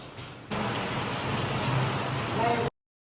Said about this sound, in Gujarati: અત્યારે વરસાદ બહુ વધ્યો છે. બહુ એટલે બહુ વરસાદ આવે છે.